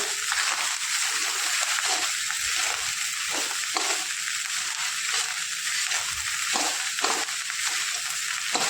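Rice for hotel-style masala rice sautéed in a pan gives a steady, loud sizzle, with repeated scraping and stirring strokes over a continuous hiss.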